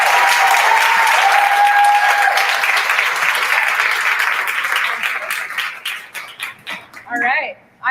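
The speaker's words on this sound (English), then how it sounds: "Let's give her a round of applause" Audience applause for a speaker taking the stage at the 2022 Tina Talks event, loud steady clapping that gradually thins into scattered claps, with a dog whimpering and barking briefly near the end.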